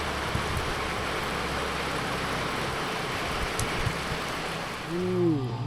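Steady rain falls in a continuous, even hiss, moderately loud and close, with a faint low rumble beneath and a short tonal murmur near the end.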